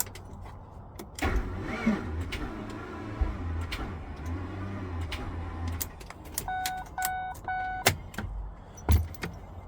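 2005 Ford Expedition that cranks slowly and fails to start: a low, labouring starter drone for several seconds, then a series of short electronic warning chimes and a few clicks and knocks nearby.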